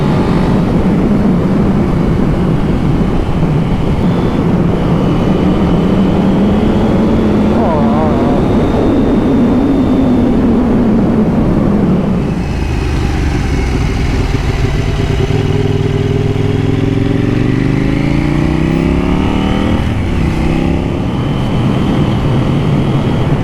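A KTM 790 Duke motorcycle engine revs and accelerates steadily for the whole stretch, the note rising and then climbing again after a shift, heard close from the rider's position with a voice talking over it.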